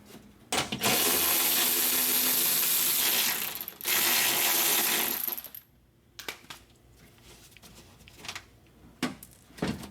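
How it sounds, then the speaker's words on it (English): Loud continuous whirring of a power tool removing the bolts that hold the window regulator inside a Honda Odyssey door, in two long bursts. Sparse metallic clicks and clatter follow, with no talk. "now I'm gonna remove the last two bolts that hold the window regulator"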